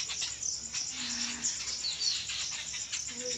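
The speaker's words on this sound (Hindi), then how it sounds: "चिड़ियों की आवाज़ सुन रही हूँ" Faint high bird chirps and tweets scattered over a steady hiss of insects, with no one speaking.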